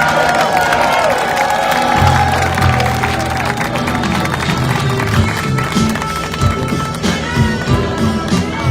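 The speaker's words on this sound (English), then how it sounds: "give him a big round of applause, Representative Randy Fine" A crowd at a pro-Israel, pro-Trump political event applauds and cheers for an introduced speaker. A loud, steady wash of clapping and voices fills the hall, with a voice talking over it briefly.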